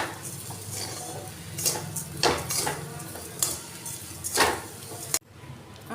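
Grated coconut and sugar stirred in a wok, the spatula scraping and clinking against the pan in irregular strokes with a faint sizzle underneath, then an abrupt stop near the end.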